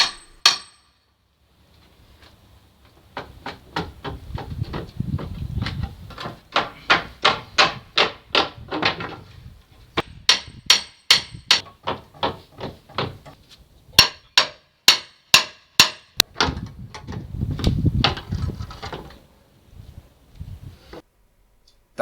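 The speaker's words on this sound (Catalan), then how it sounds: "quan fem palanca amb la pota de cabra, farem petites estrebades per tal de desclavar els claus mica en mica i evitar que la fusta es trenqui" Nails are pried out of a wooden pallet with a crowbar, making bursts of sharp repeated knocks and taps in quick runs, with creaking, scraping stretches between them, close up and fairly loud, with no talking.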